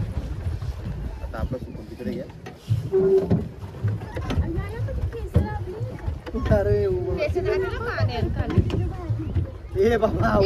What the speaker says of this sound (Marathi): आम्ही सेल्फ ड्राईव्हची बोटिंग घेतली आहे.